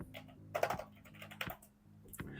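Keystrokes clatter on a computer keyboard while Python code is typed, a burst of several quick taps followed by isolated single presses, close and fairly quiet with no talking.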